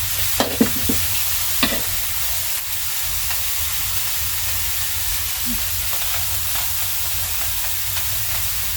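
Amanita mushrooms stir-frying in oil in a home kitchen, a steady close sizzle and hiss with a few sharp utensil clicks and scrapes near the start, continuing evenly throughout without talk.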